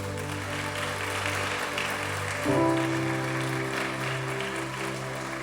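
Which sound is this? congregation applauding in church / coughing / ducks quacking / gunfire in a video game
congregation applauding in church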